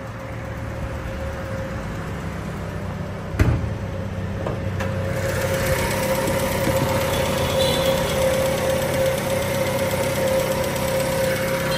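A 1995 Mazda 626 engine idles steadily at close range, a continuous low rumble with a faint mechanical knock, broken by one brief sharp thump early on, with no talk.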